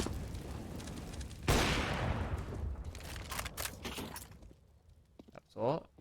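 Counter-Strike gunfire on the Inferno map during an ESL Challenger League esports match: a loud burst of rapid shots, then scattered fainter shots and pops, under a caster's excited commentary.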